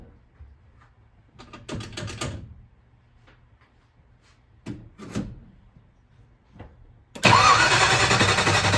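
A 1955 Ford Fairlane engine after a carburetor rebuild, cranking in two separate bursts with pauses between them, then catching and roaring loudly into a steady run, close up.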